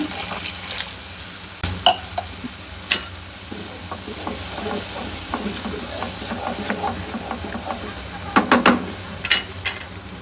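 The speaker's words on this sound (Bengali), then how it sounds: "এখন একটু পানি দিয়ে দেবো" Water goes into a hot pan of spiced oil for a dried churi fish and egg curry, sparking a continuous sizzle with bubbling pops and scraping stirs, louder crackling bursts near the end.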